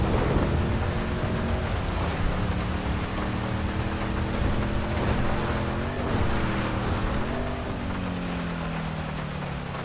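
A thunderstorm in the GTA 5 video game rolls on with steady heavy rain hiss and deep thunder rumbles, while a car engine drones and shifts pitch underneath, loud and continuous with no talk.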